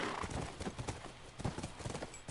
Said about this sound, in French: C'est notre cheval, elle doit être là.